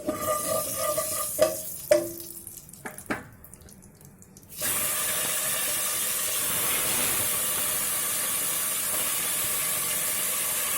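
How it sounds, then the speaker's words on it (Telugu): Pieces of fish seasoned with turmeric and salt start frying in a pan, with a few close clinks and knocks at first, then a sudden, steady hissing sizzle that goes on to the end. "ఫిష్ ముందు ఫ్రై చేసుకుందాం."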